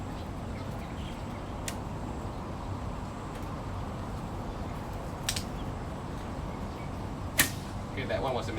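An arrow loosed from a 61 lb Assyrian bio composite bow, with a few sharp snaps of release and impact spaced several seconds apart over a steady outdoor background hiss.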